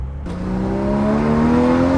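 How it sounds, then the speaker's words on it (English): Porsche 981 Boxster Spyder engine and exhaust starts up abruptly and settles into a loud, steady, rising drone, close and continuous with no talking. "I forgot how obnoxiously loud this vehicle is."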